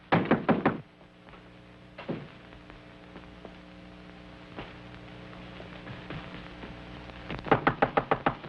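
A locked door is knocked on in quick rapping bursts at the start and again at the end, with a single thump between them and a low hum in the background.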